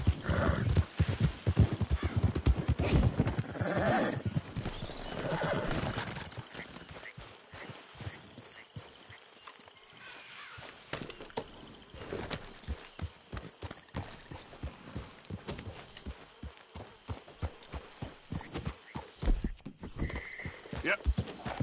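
Horse hooves clip-clop at a gallop in the Red Dead Redemption video game, with neighs and whinnies, a steady rhythmic beat that carries on past a voice speaking over it.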